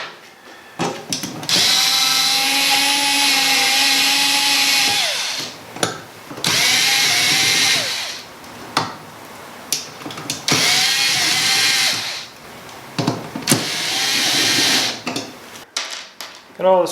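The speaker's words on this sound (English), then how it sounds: "Get all the screws out." A power drill backs screws out of an eight-GPU open-air mining rig. It whirs in three long, loud bursts of several seconds each, broken by clicks and clatter between them.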